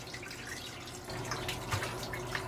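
Tap water runs and splashes as fish is rinsed in a kitchen, a steady close wash of sound growing slightly louder partway through, with scattered drips and no talking.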